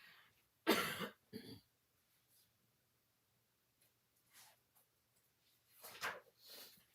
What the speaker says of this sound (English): I can go over here and cough and not in your ear